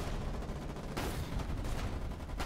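Rapid gunfire in the war game War 99, tank and machine-gun fire crackling in continuous bursts with a sharper volley near the one-second mark, loud and unbroken throughout.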